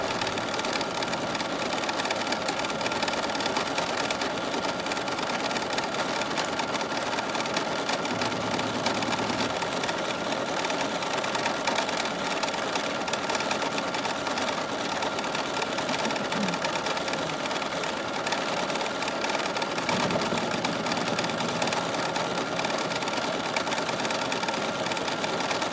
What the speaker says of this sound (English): So now I'm going to tell the machine to go ahead and tack down my batting